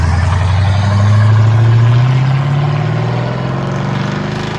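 Straight-piped Chevrolet Caprice V8 idling while parked: a deep, steady burbling exhaust rumble, loud and close, with a slight swell in the middle and no talk over it.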